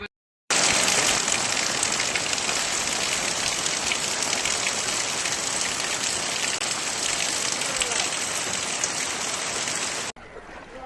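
Heavy monsoon rain pours down in Raigad, where floodwater has reached homes. It makes a dense, constant roaring hiss that stays loud and unbroken from start to end.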